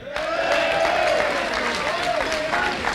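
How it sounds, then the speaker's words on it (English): A crowd at a 2007 Kerins O'Rahillys awards night breaks into applause, a dense burst of clapping that starts suddenly and stays steady, with a voice speaking over it. "I want to give a big round of applause for Patrick Madden."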